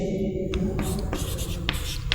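Chalk or marker taps and scratches against a board as a chemical structure is written out, giving short scraping strokes and light knocks at close range over a low background hum.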